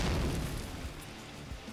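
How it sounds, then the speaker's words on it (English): An explosion in the tactical video game Troubleshooter, a deep low rumbling boom with a dense burst up front that slowly decays over a couple of seconds. "That sounded like an explosion."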